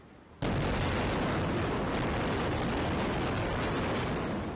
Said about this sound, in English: This is Israel pounding the Gaza Strip, with hundreds of airstrikes on Wednesday morning.